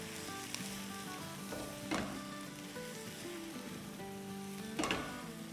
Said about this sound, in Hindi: अगर कोई बड़े आलू रह गए हो तो थोड़ा सा इसे भूनते भूनते ही दबा दें।